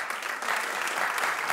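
A studio audience breaks into brisk, dense clapping that builds slightly and stays steady through a short burst.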